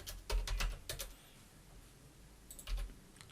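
Keys tapped on a computer keyboard while entering text in a design program, a quick burst of several clicks, a pause, then another short cluster, close and fairly quiet with no talk.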